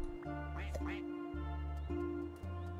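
A pair of quick duck quacks in No Place like Home, a farming video game, heard near the start over a constant humming game background, then only the music continues.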